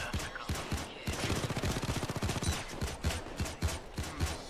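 Sentry turrets in Payday 2 unleash rapid automatic gunfire, a fast steady stream of sharp shots in bursts that carries on throughout with only brief gaps.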